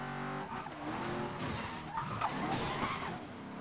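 Engine roar and screeching tire skids from a car in a racing video game, with police chase action; the loud, continuous revving and squealing fills the whole stretch without speech.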